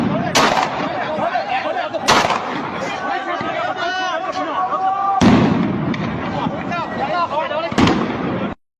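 Gunfire during clashes near the US embassy in Iraq: repeated sharp loud shots ring out over a crowd's continuous shouting and chatter, with voices heard throughout.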